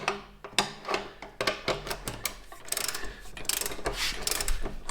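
Ratcheting and clanking of a wrench tightening the final bolt on a Land Pride RB 1672 rear blade, a run of sharp, close mechanical clicks and knocks in uneven bursts with no talk.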